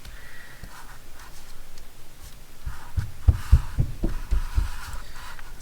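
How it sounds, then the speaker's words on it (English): Children run around upstairs, producing muffled thumping footsteps overhead, irregular soft thuds that grow busier and louder toward the end over a faint room hum. "So here are my kids running around upstairs."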